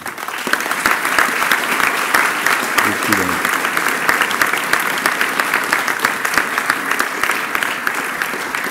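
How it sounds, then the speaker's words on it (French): An audience at a French legal book prize ceremony bursts into loud, sustained applause, dense overlapping claps filling the room steadily for several seconds. "je vous demande d'applaudir M. Christophe Lazaro."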